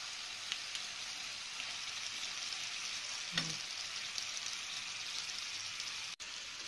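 Steady, dense sizzling of thinly sliced okra frying in hot oil, a continuous crackling hiss with a brief clatter partway through, with no voices.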